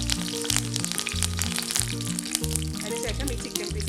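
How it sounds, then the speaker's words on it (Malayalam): Curry leaves sizzle and crackle in hot coconut oil for a Kerala-style chicken fry, a steady bright frying hiss with scattered pops, partly masked by louder background music with a deep, pulsing bass. "എണ്ണ ചൂടായി കഴിയുമ്പോൾ ഇതിലേക്ക് കുറച്ച് കറിവേപ്പില ഇട്ട് കൊടുക്കാം."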